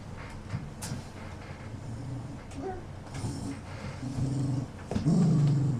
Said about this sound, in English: This is my dog. He wants attention tonight